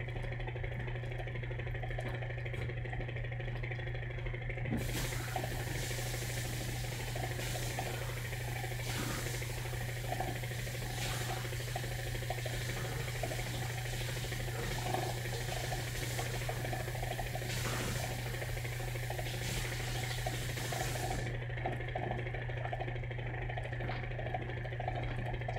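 Tap water runs over glass beakers in a wet plate collodion studio, a steady hiss of about sixteen seconds over a low constant hum.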